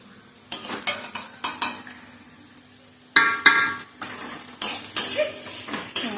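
A spatula scrapes and stirs onions frying for birista in a pan, sharp metallic clinks and scrapes repeating in bursts over a faint sizzle, close and loud with a brief quiet pause midway.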